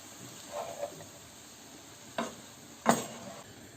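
Leek filling with salt, black pepper and chili flakes stirred in a pan for Bosnian börek, giving a few brief scraping strokes, the last one loudest, over a faint background sizzle.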